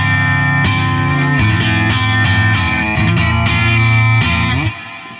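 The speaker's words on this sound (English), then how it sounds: "Because it's a modeling amp, it has a specific crunch setting, so you have a good range of hardly any crunch to a lot of crunch." Electric guitar played through a modeling amp on its crunch setting, distorted chords struck in a loose rhythm with sustained ringing, loud and close, fading out at the end.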